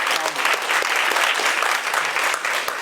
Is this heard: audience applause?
yes